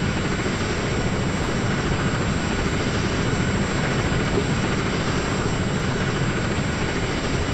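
A helicopter hovers near a high-wire tightrope walking record attempt by Uyghur performers at Aizhai, China, its steady, loud rotor and engine roar filling the whole stretch without any talk.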